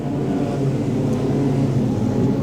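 Wingless sprint cars race around the Archerfield Speedway dirt oval during a 50-lap A-main, a dense, constant roar of engines heard from the grandstand at a distance.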